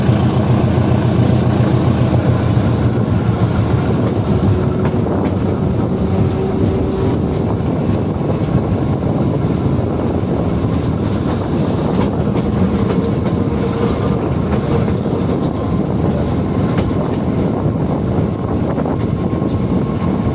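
The Airlangga passenger train departs Cikampek station in Indonesia at night, rolling along the rails with a steady, loud rumble and a faint rhythmic clatter of wheels throughout, with no voices.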